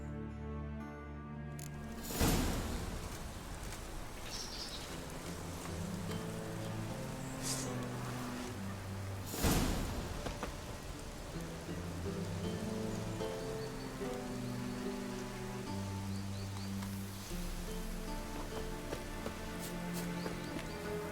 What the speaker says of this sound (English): Rain like this would fetch a fortune in Zerrikania.